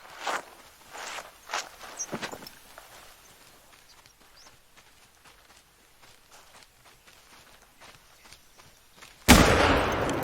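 A rifle gunshot rings out while hunting in theHunter: Call of the Wild, a single loud, sharp blast at the very end following several seconds of soft footsteps and rustling movement.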